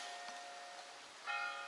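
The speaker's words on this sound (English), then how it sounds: "And on time, here's the bells." Church bells ring out in a hilltop town in Abruzzo, Italy, faint and distant tones over a soft outdoor wash, growing a little stronger near the end.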